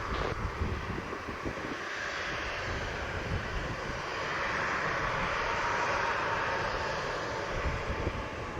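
An American Airlines jet on final approach to runway 7 at Montego Bay airport, Jamaica, with a continuous loud roar that swells slightly as it passes, mixed with a high whine and some wind noise.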